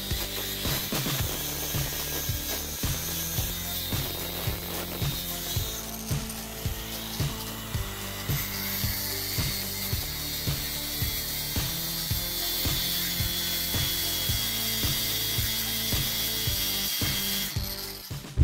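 A ratchet tightens a part on a car's rear end with fast, steady clicking strokes that run continuously and close by, with no talk.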